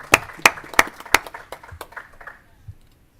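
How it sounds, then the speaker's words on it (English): A few people clap briefly at a legislative committee hearing, sharp close claps at first that thin out and fade within about two and a half seconds, leaving a quiet room. "Give him a big round of applause."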